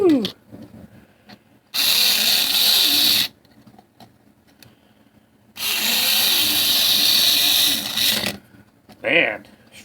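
An Amrac KM-2 Sport gearbox spins its wheels without traction on a dyno in two loud sustained whirring, grinding bursts of about one and three seconds, with a brief short spin near the end and quiet gaps between.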